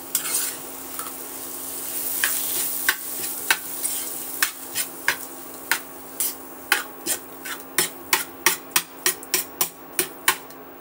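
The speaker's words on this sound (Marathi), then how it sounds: "तर याला छानपैकी असं फ्राय करून घेऊ आपण" Spiced potato filling for masala mirchi vada frying in a pan, a soft sizzle beneath a spoon scraping and tapping against the metal, the strokes speeding into a quick, regular rhythm toward the end.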